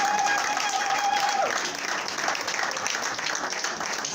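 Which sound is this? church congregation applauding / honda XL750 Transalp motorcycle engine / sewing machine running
church congregation applauding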